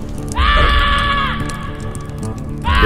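A character's battle scream skill in the Lord of the Rings Online game: a loud, harmonic shriek lasting about a second, then a second cry starting near the end, over low background game sound.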